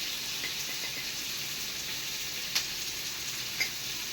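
Onions sautéing with salt in a pan for egg gravy, giving a steady close sizzle throughout with a couple of faint pops and no voices.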